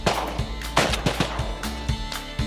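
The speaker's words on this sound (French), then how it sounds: "Claude Juteau vient de faire une shot des majeurs." Several sharp, loud shotgun blasts ring out at irregular intervals while waterfowl hunting in Saskatchewan, each a sudden broadband crack with a short decay.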